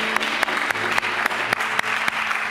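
Studio audience applauding on a Turkish matchmaking TV show, a dense burst of clapping with sharp periodic accents, loud and steady over a few seconds.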